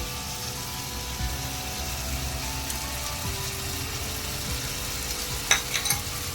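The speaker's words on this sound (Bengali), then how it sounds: "দিয়ে আমি আরেকটু ভালো করে কষিয়ে নেব।" Golda prawn rezala masala with sugar sautés in a pan, giving a low, steady sizzle and a few faint stirring scrapes near the end.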